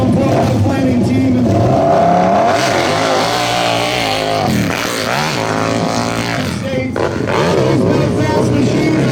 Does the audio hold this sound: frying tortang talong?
no